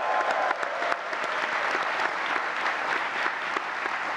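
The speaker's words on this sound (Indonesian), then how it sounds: "kasih tepuk tangan dong Coach Harry Iman Kunadi" Sustained audience applause in a television talk-show studio, dense and even clapping from a large crowd that continues loudly throughout with no talk over it.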